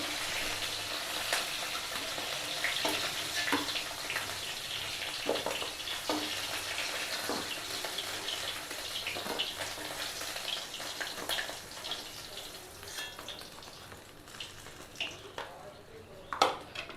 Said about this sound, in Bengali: কাঁকড়াগুলো ভাজা হয়ে গেছে এবার তুলে নেবো